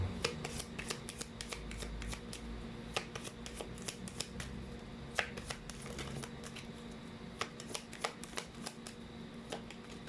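Tarot cards being shuffled by hand, a steady run of quick crisp riffling snaps and flutters, close and fairly quiet with no talking.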